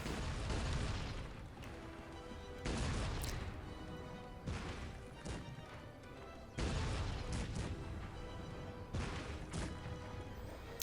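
Artillery bombardment in the Cossacks 3 strategy game: repeated loud booming explosions in heavy bursts, roughly every two to three seconds, over a dense rumbling battle din.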